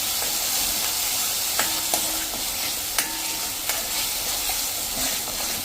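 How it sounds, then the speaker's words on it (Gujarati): A masala paste for brinjal sabzi sizzles steadily in a pan over a low flame, with a continuous frying hiss and occasional faint scrapes and taps of a spoon stirring it. "તો આ રીતે સ્લો ફ્લેમ ઉપર આપણે પેસ્ટને એકદમ મિક્સ કરી લેશું."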